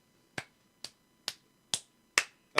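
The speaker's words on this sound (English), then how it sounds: "That's me clapping" Slow, deliberate hand claps from one person, six sharp, close claps spaced about half a second apart in a quiet room.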